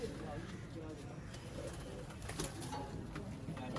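Soft cooing of Sialkoti rooftop pigeons, low and repetitive, under a steady background hum.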